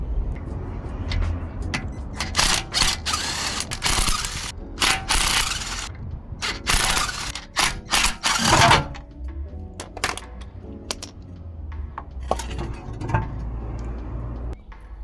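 Car wheels come off a high-mileage wagon with hand tools, bursts of ratcheting and clattering wrench mechanisms alternating with short pauses, close and fairly loud, with scattered metallic clinks.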